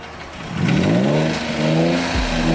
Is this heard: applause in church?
no